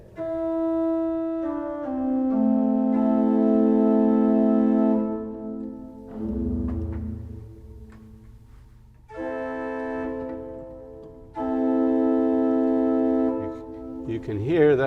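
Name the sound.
Brunzema pipe organ four-foot stop played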